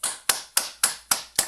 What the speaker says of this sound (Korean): 수고하신 총무님께 박수.